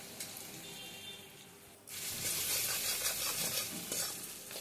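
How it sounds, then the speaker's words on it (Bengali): Ground cumin, coriander, chilli and turmeric with salt frying in oil for a Bengali parshe fish curry: a quiet spatula scrape, then a sudden burst of steady, close sizzling that keeps going. "খুব ভালো করে কষাবো।"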